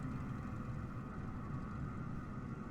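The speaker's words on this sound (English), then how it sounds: "Looks like there is an airplane on final." A Diamond 62 airplane on final approach in Flight Simulator 2020 gives a steady, low engine drone that stays even and unbroken throughout.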